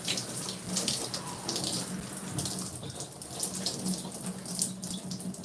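Tap water runs steadily into a sink while shampoo is rinsed from freshly box-dyed burgundy hair, a continuous close splashing hiss with small fluctuations as hands move through the stream.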